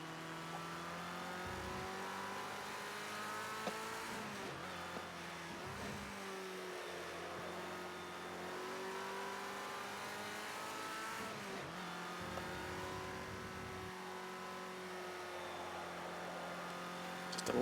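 Ford Escort RS1600 engine in Project CARS 2 racing, a steady sustained drone with rising and falling revs through gear changes and throttle lifts, loud and continuous with no talk.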